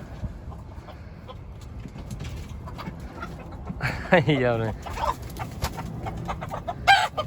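A rooster crows loudly partway through while chickens, including Araucanas, cluck in the background of a poultry coop and someone talks.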